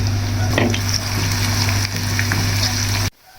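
Onion fries in hot cooking oil in a frying pan, a loud close continuous sizzle with faint stirring scrapes over a low kitchen hum, cutting off abruptly near the end; no talking.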